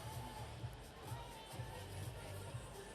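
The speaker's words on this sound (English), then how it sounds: "Good crowd in here today" Crowd murmur and light cheering fill a gymnastics arena at a World Challenge Cup, a steady, fairly distant hubbub with occasional swells of applause-like noise and no clear voice in front.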